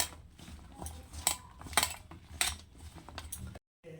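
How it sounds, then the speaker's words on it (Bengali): Okra tossed and mixed with spices in a bowl, with a run of scraping clinks and soft knocks of a utensil against the dish, close and fairly quiet, ending in a brief silence. "এই মশলাগুলো সব একসঙ্গে ভেন্ডির সঙ্গে খুব ভালো করে মেখে নেব"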